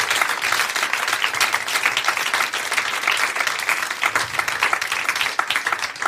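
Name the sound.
live podcast audience applauding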